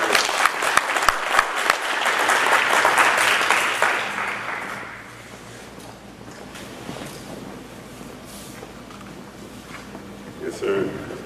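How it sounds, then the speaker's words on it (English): Audience clapping for a young man named Jeremiah at a coaching event, a dense burst of applause for about five seconds that fades into quiet room noise, with voices under it. "Clap it up for Jeremiah"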